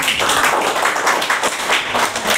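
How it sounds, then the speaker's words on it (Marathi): Dense, steady clapping from an audience cheering a quiz contestant, loud and continuous throughout with no break. "तिच्यासाठी जोरदार टाळ्या"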